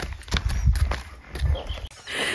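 A mare moves close by with uneven, thudding hoofbeats in a loose clip-clop, set against rustling outdoor background noise.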